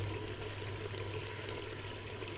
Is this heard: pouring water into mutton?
yes